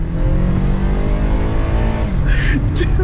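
A tuned Honda Civic Si with a Skunk2 Alpha intake revs loud and close, its engine drone holding a sustained, steady pitch before a brief higher rasp near the end.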